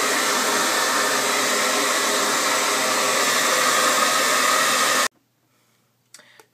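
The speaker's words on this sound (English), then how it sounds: "So I'm going to blow dry my hair." A handheld hair dryer blows hair dry in a bathroom, a loud, even whooshing roar running steadily for about five seconds before it cuts off abruptly into near silence and a faint rustle.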